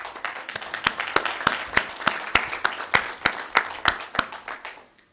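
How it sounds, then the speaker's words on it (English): Applause at a St. Tammany Parish council meeting, a small group clapping in a steady run of sharp claps for about five seconds before fading out. "All that hard work, you get 2 claps"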